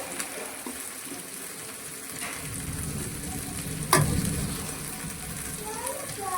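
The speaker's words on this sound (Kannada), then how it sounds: "ನೋಡಿ ಈಗ ಫಿಶನ್ನೆಲ್ಲ ಹಾಕಿದ್ದೇವೆ ಮಸಾಲೊಟ್ಟಿಗೆ." Sardines frying in masala in a pan give a steady close sizzle, with stirring scrapes and one sharp clink partway through.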